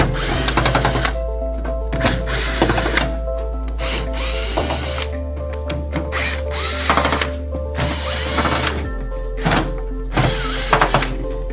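Power drill backing screws out of an EdenPURE GEN 3 heater during heating element replacement, loud close motor whirring in repeated bursts with pitch changes, short pauses and clunks between runs.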